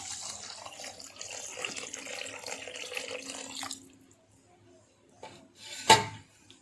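Hot water is poured into a pot of rohu fish curry with small tomatoes, a steady splashing pour lasting a few seconds before stopping; after a near-silent pause comes a single sharp knock of the pot.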